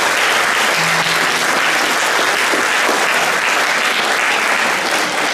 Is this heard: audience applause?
yes